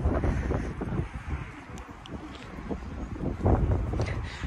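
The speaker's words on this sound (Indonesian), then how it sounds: "Ada angin pula." Wind gusts buffet an outdoor microphone in a cold spot where a camper van is parked, a steady rumbling roar with louder bursts, heard alone with no talking.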